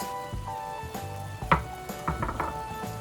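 Onions sizzle in half a stick of melted butter in a pan, a steady frying hiss broken by a few utensil clinks and stirring knocks, close and moderately quiet with no talking.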